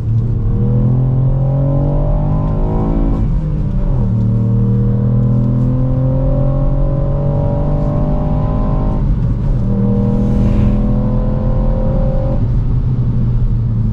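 Ford Puma ST engine pulling hard in sport mode, revving up through rising gear sweeps with brief drops at each shift, loud, continuous and close throughout.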